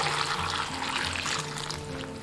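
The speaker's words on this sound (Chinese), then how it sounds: "倒清水" Clean water poured into a bowl to soak dried mushrooms with a spoonful of salt in a home kitchen, a steady close pouring splash running the full two seconds with no talk.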